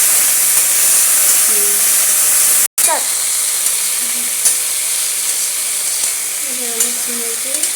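Nigella seeds and browned garlic sizzle in hot oil in a pan, a steady close hiss with faint stirring scrapes and a brief cut in the sound near the middle.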